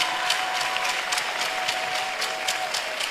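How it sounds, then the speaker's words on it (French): A church congregation claps for a member in an indoor service, giving a steady, dense burst of applause with no voices on top. "Acclamez d'abord pour maman."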